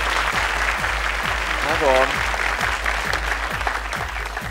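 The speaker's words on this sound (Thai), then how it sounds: "ขอเสียงปรบมือด้วยนะครับ" An audience at an innovation awards ceremony applauds in a steady crowd roar, while a male host's voice talks briefly over the clapping.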